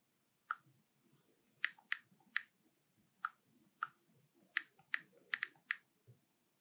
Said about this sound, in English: I'm going to get my keyboard and I'm going to type in my password.